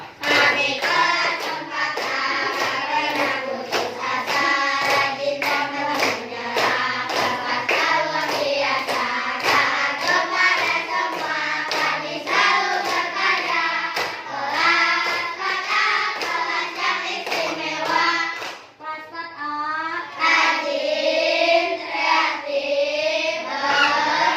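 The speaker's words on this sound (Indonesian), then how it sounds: "Semuanya tepuk kelas 4A" Class 4A performs a rhythmic class clap, a long run of quick, patterned hand claps by many children, steady and loud throughout with a brief dip near the end.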